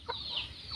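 A chicken gives a single short, faint cluck in a village setting, lasting under a second.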